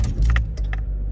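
A Ford Ka Grand Prix engine rumbles low and steady at close range right after starting, with a few light metallic jangles and clicks over the idle.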